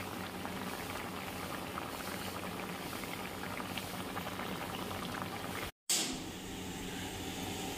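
A thin rohu fish curry simmering in a pot, a steady close bubbling boil throughout, broken by a brief silent cut near the end before the bubbling resumes.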